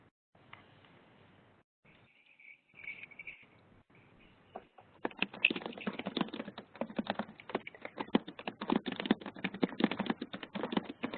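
Several people type on computer keyboards during a live virtual session, starting as sparse clicks and building into dense, rapid clatter, close and steady with no talking.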